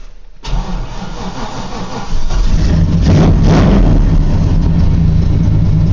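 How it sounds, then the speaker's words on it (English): A 1995 Chevy Silverado 1500 pickup cranks on a cold December morning, catching almost at once, then rising into a loud, steady idle heard close up with no talking. "this is a cold start of my 95 Chevy"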